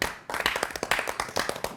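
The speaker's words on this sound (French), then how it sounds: "Voilà, très bien, je vous applaudis. Bravo." A few people clap close by, with quick, uneven, sharp hand claps that start after a brief pause.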